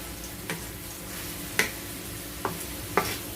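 Egg is stirred into frying bitter melon (ampalaya): a soft, steady sizzle runs underneath while a spatula gives three or four sharp taps and scrapes against the pan, spaced irregularly. No talking.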